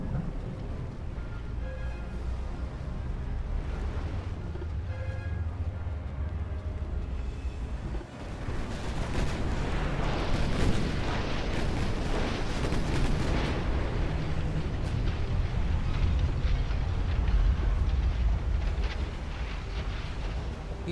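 Warship guns firing in the naval battle game Ultimate Admiral: Dreadnoughts, heavy booming blasts and rumbling explosions rolling over a continuous low engine-like drone, loudest midway, with no talk.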